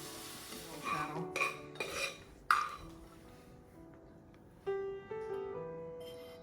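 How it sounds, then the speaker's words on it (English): Dishes and cutlery clinking while dinner is plated in a home kitchen, several sharp ringing clatters and scrapes of utensils on plates, close by, with a faint sizzle in the background and no talking. "I'm getting ready to plate our dinner"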